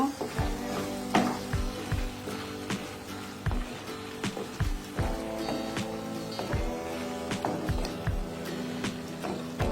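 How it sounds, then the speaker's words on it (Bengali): Beef kala bhuna stir-fried in a pan, with steady close sizzling and frying broken by repeated sharp clinks and scrapes of a utensil against the pan, continuing throughout with no talk. "এখন একটু মারিয়ে নিব"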